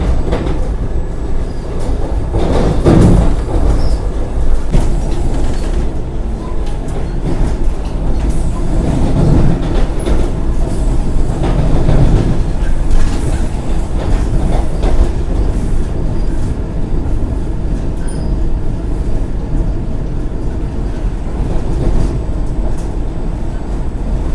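The Vande Bharat Express runs on the Secunderabad to Tirupati route with a loud, continuous rumble and rattle of wheels on rails, heard close up and steady throughout with occasional surges.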